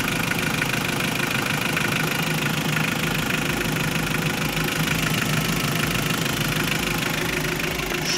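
A 2001 Hyundai Porter truck's engine idles steadily and loudly nearby, with a continuous rattling diesel knock and no breaks.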